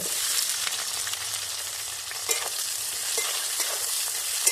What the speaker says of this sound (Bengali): পেঁয়াজটা একটু ভালো করে আমি লাল করে ভেজে নেব।